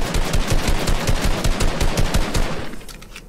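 Rapid automatic gunfire in the Fortnite video game: loud, close, evenly spaced shots in a sustained burst that tapers off near the end.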